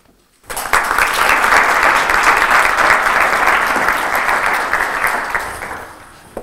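Applause from a lecture audience welcoming a speaker swells suddenly into a dense, steady clapping that holds for about six seconds, then gradually thins toward the end.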